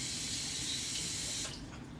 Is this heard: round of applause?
no